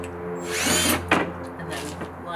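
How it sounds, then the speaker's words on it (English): A power drill drives screws partway into pilot holes in wood, with a brief rising whir, a short burst, and a second run over about two seconds; close and fairly loud. "We can partially screw it in"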